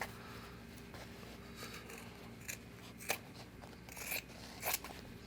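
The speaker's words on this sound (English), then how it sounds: "I'm just gonna cut for where the pocket is" Scissors cut through fabric for a pocket. Quiet, close snips and crisp slicing sounds come at irregular intervals over a low background hum.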